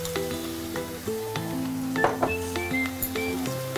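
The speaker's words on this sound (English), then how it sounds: "we want to sweat the mushrooms out again a little bit more" Mushrooms sweating in a pan for mushroom pasta make a soft, steady sizzle with occasional clinks of utensils, heard beneath background music.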